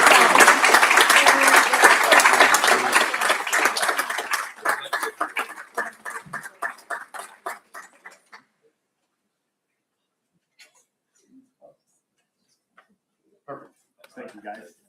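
Audience applause at a school board meeting honoring contributing organizations: dense, loud clapping for about four seconds, then thinning to scattered claps that die out by eight seconds, leaving near silence with a few faint stray noises.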